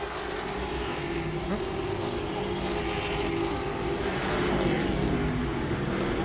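Grand Stock cars racing at Langley Speedway as one car makes a pass for second place, a continuous loud roar of several engines that swells slightly, with a commentator's voice beneath.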